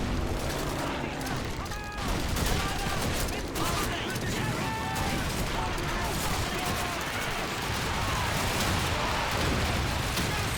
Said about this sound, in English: coming up is a very dangerous section. Gonna try to use smokes and grenades